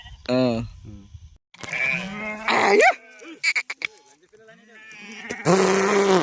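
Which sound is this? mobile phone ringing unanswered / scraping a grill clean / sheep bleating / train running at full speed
sheep bleating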